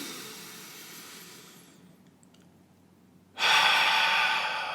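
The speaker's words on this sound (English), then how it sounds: "we're going to start with a nice deep breath in through the nose" A slow, deep inhale through the nose during a guided breathing exercise, soft and gradual, followed by a louder, sudden breathy rush near the end, close to the microphone with no talk.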